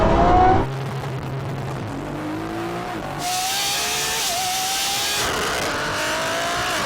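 A BMW M140i and a Lamborghini Revuelto accelerate hard in a drag race, engines roaring loud and close with rising pitch through several gear changes over about seven seconds, no talking.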